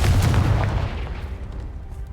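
A Confringo blasting spell detonates in Hogwarts Legacy, with a loud booming explosion right at the start that rumbles and decays over about two seconds.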